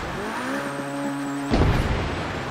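An Abarth Fiat 131 in Forza Horizon 3 drives fast with its engine droning steadily at a high pitch, then a sudden splashing rush cuts in and continues.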